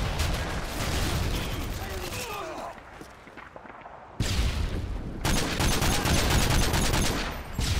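Gunfire in Call of Duty: Modern Warfare 2 (2009) during a team deathmatch on the Skid Row map: loud, dense bursts of rapid shots, with a quieter lull midway before the firing surges back.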